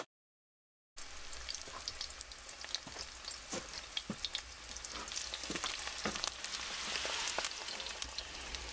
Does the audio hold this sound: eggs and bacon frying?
yes